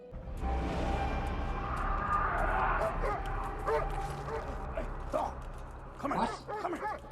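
A dog in a zombie TV drama barks and whimpers, with yips and whines over a loud, busy soundtrack.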